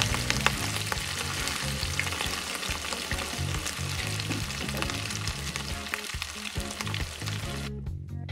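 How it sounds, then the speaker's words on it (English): Fish fries in hot cooking oil in a non-stick pan, a dense, steady crackling sizzle close up with frequent small pops, unbroken until it cuts off abruptly near the end. "Give them a few minutes per side before flipping them over, and try not to fry the fish too dry."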